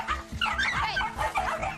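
Simon, an aggressive, enraged dog, barks in quick, harsh, growly bursts up close, one after another without pause.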